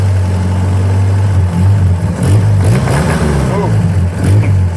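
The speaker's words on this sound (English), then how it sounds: "Now, it's only rod knocking a little bit" A Willys engine with a worn rod runs at light throttle, its loud steady low drone rising and falling slightly, with a faint knock under it and voices over the top.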